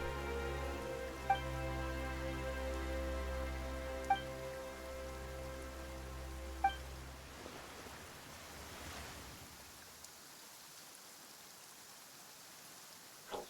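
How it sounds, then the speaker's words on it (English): Sudden rain in the video game Genshin Impact, Fontaine region, a steady soft hiss of falling rain that takes over as a sustained musical drone fades out, heard without talk. "Why is it raining all of a sudden?"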